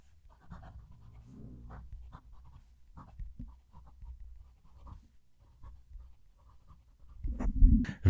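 Pen writing a sentence on paper, close to the microphone: soft, intermittent scratchy strokes with short pauses, quiet overall, ending in a louder rustle.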